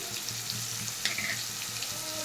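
Cut potato, eggplant and beans with green chili, tomato, cumin, coriander, turmeric and a little sugar frying in a pan, giving a steady, even sizzle close up with faint clinks and no talking.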